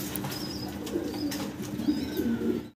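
Colorful pigeons kept for sale coo softly and repeatedly at close range, with faint bird chirps and a light background hum, no talking.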